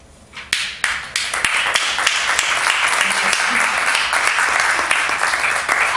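Audience applause follows a poetry reading at the Entintados event during San Isidro: a few scattered claps start it, then it swells quickly into dense, sustained clapping that stays loud and close to the end.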